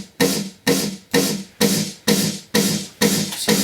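Dry version of an electronic snare-like effect in dance music production, with no sound codizer applied, repeating seven times at a steady pace; each hit is a loud, noisy burst that fades quickly, with no talking.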